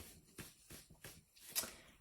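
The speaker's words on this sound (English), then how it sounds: "So I'm just shuffling my card deck anyway." Oracle cards shuffled by hand in a steady series of soft, papery riffling bursts, close and quiet, with no talking.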